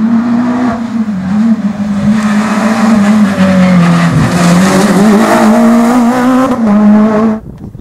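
A 217-horsepower rally car at a test session, its engine droning loud and close at a steady high pitch, shifting and revving with tyre squeals and skids before cutting off abruptly.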